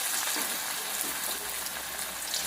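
Soaked bitter gourd frying in hot oil, a dense, steady crackling sizzle filling the whole stretch without pause.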